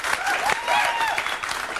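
A small studio audience claps and cheers for William Shatner's entrance on a TV show, a steady burst of applause with some whistling and overlapping voices throughout.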